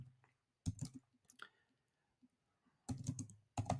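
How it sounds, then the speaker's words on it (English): A message is typed on a computer keyboard in quick clusters of crisp key clicks, close and quiet, with pauses between bursts and no talking. "I'm just going to type in Steve Jobs."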